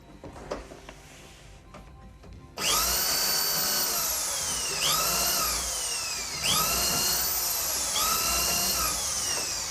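A power drill bores holes in timber through an Ozzie multi-jig, starting after quiet handling noises, then a loud sustained whine that rises and falls as it winds up and bites through the wood in repeated runs.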